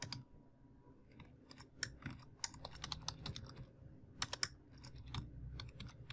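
Fast typing on a computer keyboard, with irregular bursts of crisp, close key clicks and a few sharper strikes, heard alone over quiet room noise.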